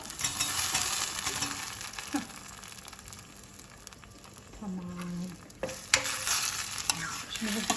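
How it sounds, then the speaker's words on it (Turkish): Canned green beans frying with sautéed onions in a pan, giving a steady loud sizzle with stirring scrapes and a few sharper knocks, close and continuous without talk. "Soğanımı kavurdum. Şöyle fasulyesini de dökeyim."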